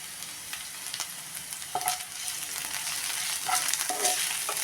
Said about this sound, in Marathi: ते पण आपण मिरचीचा कच्चापणा कमी होईपर्यंत चांगलं परतून घेऊया